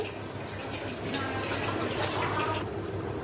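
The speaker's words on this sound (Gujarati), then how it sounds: "બે કરશા પાણી આપણે નાખી દેવાનું છે અંદર" Two ladlefuls of water pour into a bowl with a steady, continuous splashing rush that thins out toward the end.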